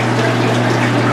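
Cooking water poured in a home kitchen during a sattvik vegetarian cooking class: one steady, loud, close gushing pour that runs unbroken for about a second, with no talking.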